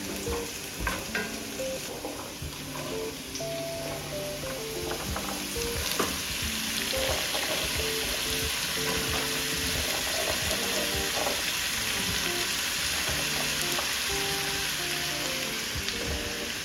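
Sweet potato and white potato hashbrowns fry in a pan, a dense, steady sizzle and crackle running throughout, close and fairly loud, with no voices.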